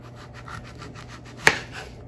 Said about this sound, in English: We're going to slice our pears down the middle.